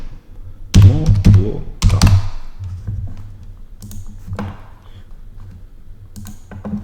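Someone types a search on a computer keyboard, with loud clustered keystroke clicks and thunks at first, then lighter scattered taps that thin out toward the end.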